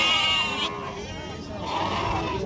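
Sheep bleating at the Athani sheep and goat market near the Karnataka–Maharashtra border, a few close calls over a continuous crowd murmur of livestock and people.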